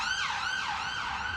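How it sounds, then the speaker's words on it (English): Emergency vehicle sirens wail continuously through near-empty UK city streets during coronavirus lockdown, the pitch sweeping up and down in long cycles, loud and steady with no voices. "Near empty streets echo to the wail of sirens"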